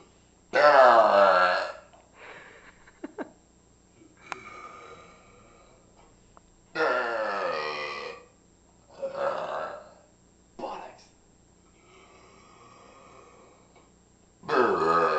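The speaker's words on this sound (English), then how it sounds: "he definitely has the loudest burps I've ever heard" A man lets out a series of loud, long burps, about half a dozen, spaced apart with quieter gaps between them.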